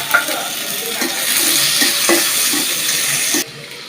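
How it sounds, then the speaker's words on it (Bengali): Chopped tomatoes go into hot oil with fried onions for a sea fish curry, producing a loud, wet, continuous sizzle with a few soft stirring knocks, ending in a sudden drop to quiet. "টমেটো কুচি দেওয়া হচ্ছে।"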